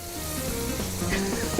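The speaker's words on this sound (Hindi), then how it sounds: "चलो भाई, भुनाई हो रही है" Green chilli keema frying in a pan, giving a continuous close sizzle with faint crackles and a few stirring scrapes, no talking.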